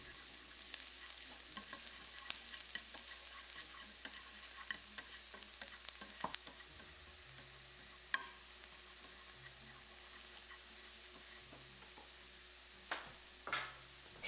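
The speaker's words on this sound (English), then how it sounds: "And garlic. Cook for about 1 minute until it is lightly brown." Garlic frying in a pan gives a quiet, steady sizzle close by, broken by light scraping and tapping as it is stirred, with no one talking.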